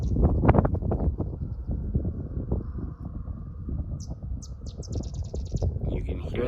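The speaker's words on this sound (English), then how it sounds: "You can hear the sedge wren," A sedge wren sings in open prairie, a faint series of rapid chattering notes in the distance, heard under wind noise and nearby talking.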